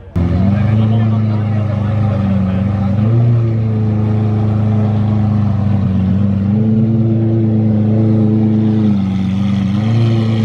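A Ford Mustang engine starts and settles into a loud, steady idle with a couple of slow rises in pitch from light revving, heard close up.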